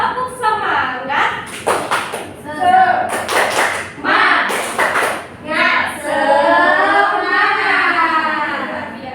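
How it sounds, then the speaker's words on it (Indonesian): Classroom students perform a rhythmic spirit clap in unison, sharp grouped claps and desk taps in a patterned beat, with children chanting and calling out along with the rhythm. "Tepuk semangat."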